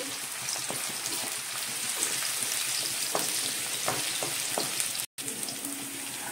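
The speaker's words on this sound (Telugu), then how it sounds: "ఆయిల్ ఫ్రై అయింది, ఆనియన్స్ వేసుకుంటున్నాను. అలానే పచ్చిమిర్చి కూడా వేసుకుంటున్నాను." Sliced onions and green chillies hit hot oil and fry with a steady rain-like crackle, scattered pops and light stirring clicks, loud and close, broken by a brief cut to silence.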